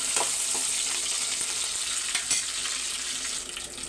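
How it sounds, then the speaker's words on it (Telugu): Curry leaves and dried red chilies fry in a tempering for chicken curry gravy, a steady, close, crackling sizzle with a few sharper pops and no talk. "చక్కగా టప్పలాడి దాకా తాలింపు వేగించుకోవాలి"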